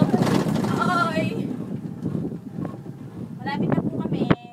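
Wind rushes steadily past the microphone during a cable car ride in Ocean Park, Hong Kong, a constant broadband blowing sound that carries under excited talking throughout.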